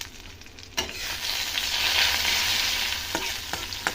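Spices and dried red chillies with a pinch of asafoetida sizzle steadily in hot oil for a lentil tempering, a loud continuous frying hiss that starts abruptly and holds, with a few stirring clicks.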